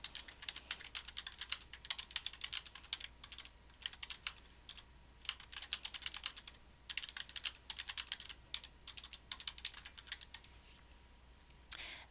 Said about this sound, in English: I can actually type in here.